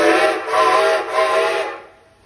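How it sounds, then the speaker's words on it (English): Strasburg Railroad steam locomotive whistles sound in steady blasts, loud and full, pulsing slightly before cutting off to quiet, with no voices over them. "Did you hear those train whistles out there?"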